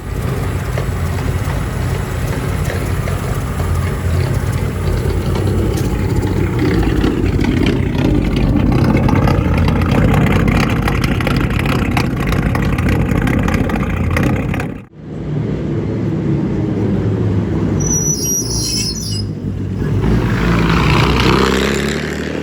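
A powerful 8.7-litre V12 engine in a 1926 Buick speedster project runs steadily and loudly, with a brief drop around the middle before the deep rumble resumes, no voices.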